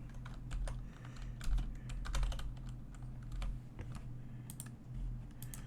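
Fingers tap on a computer keyboard in irregular bursts of crisp clicks over a low steady background hum, close and moderately quiet with no speech.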